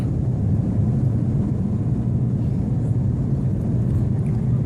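Steady, loud low roar of an airliner climbing after takeoff from the UAE toward Turkey, a continuous cabin drone with no breaks.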